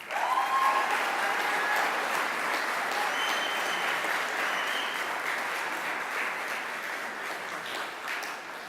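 An audience at a Project Search graduation gives sustained applause for graduating interns, a dense wash of clapping from many hands that holds steady and slowly fades.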